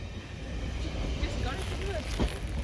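A train heard from a boat on the Caledonian Canal in Scotland rumbles past with a steady low roar and faint squeals, while people talk nearby.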